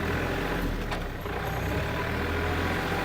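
A Kubota L3218 tractor engine idles in first gear, a dense, steady diesel rumble close by with no break.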